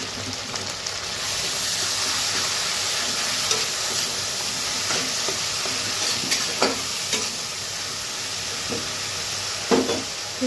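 Onion paste fries in hot oil, a steady sizzling hiss under repeated spatula scrapes and clinks as it is stirred around the pan, close and fairly loud throughout.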